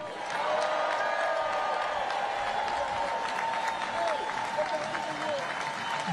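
Large crowd at a Labor Day news event breaking into steady applause and cheering, sustained and loud throughout with no pauses.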